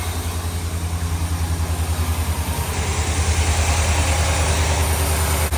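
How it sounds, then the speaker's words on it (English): A 2021 Ram 1500 pickup truck idles steadily close by, a low rhythmic engine throb with a faint higher whine, running smooth and even with no talking. "start up the truck, and we're good to go. Everything's running pretty good."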